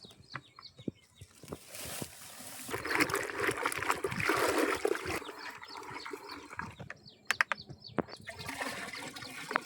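Water-soluble fertilizer is stirred into about 200 litres of water for drenching banana plants, giving uneven sloshing and splashing that swells and fades, close and fairly loud.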